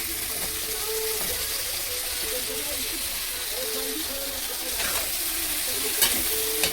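Bottle gourd greens with eggplant and ridge gourd fry in a pan, a steady soft sizzle close by with occasional stirring scrapes and a voice talking over it.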